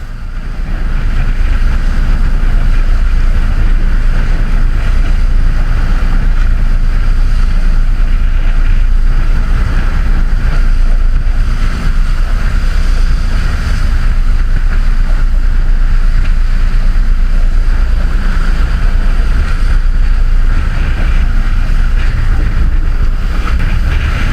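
A gust roars over a sailboat under sail on the Bahama Bank, giving loud, continuous wind buffeting on the microphone mixed with rushing water and hull noise, with no talking.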